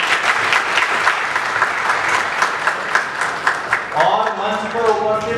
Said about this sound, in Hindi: एक बार तालियों से स्वागत करते हैं।